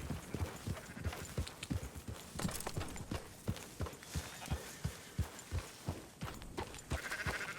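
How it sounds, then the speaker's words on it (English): Horse hooves clip-clop steadily while sheep bleat in the video game Red Dead Redemption 2, a rhythmic trotting beat with scattered livestock calls, moderately quiet. "Marston, why don't you leave the sheep to me?"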